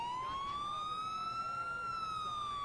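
A police siren in the video game GTA IV (LCPDFR mod) wails steadily and loudly throughout, its pitch gently rising and falling with a smooth electronic tone and faint background noise.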